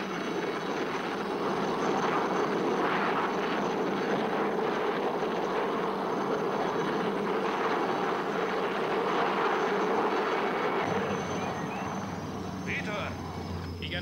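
A helicopter in a 1976 horror film gives off a loud, steady engine and rotor drone that lasts throughout, with voices talking over it.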